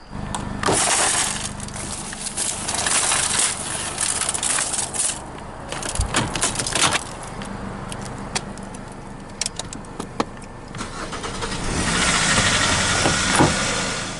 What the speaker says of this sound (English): After successfully activating the engine with a USB cord, Swervo's on the move